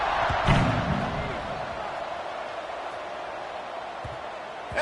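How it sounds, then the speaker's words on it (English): Football stadium crowd buzzing after a touchdown score, a steady broad roar with a brief louder swell near the start, filling the background evenly throughout. "this crowd is buzzing after that last score"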